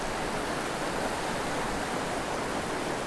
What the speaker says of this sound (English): roadside river fishing